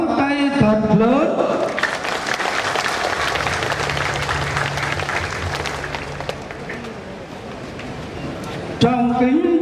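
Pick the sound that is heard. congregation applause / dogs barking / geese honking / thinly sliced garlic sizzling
congregation applause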